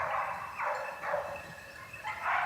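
Hunting dogs baying during a big-game hunt: a pack gives repeated drawn-out howling cries in several overlapping bursts, moderately distant and alone without speech.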